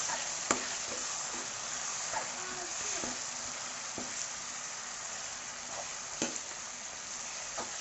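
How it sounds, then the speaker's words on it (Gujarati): Brinjal bharta is tempered in hot oil, giving a faint, steady sizzle with a few sharp clicks of stirring, heard fairly distant and quiet. "હવે આપણે શાકને વઘારી લઈશું આવી રીતે"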